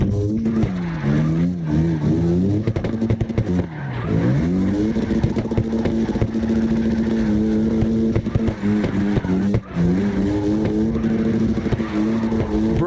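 A Porsche GT3 RS engine in CarX Drift Racing, held at high revs with a loud, continuous drone that drops and climbs again in several sweeps.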